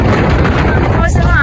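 Strong wind gusts outdoors during a sudden weather change, a loud roaring buffet across the microphone that persists throughout, with speech partly underneath.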